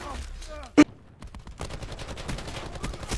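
Gunfire from the shooter game Call of Duty Black Ops 4 multiplayer: one sharp, loud shot, then a dense rattle of rapid fire from several weapons. Faint voices sound underneath.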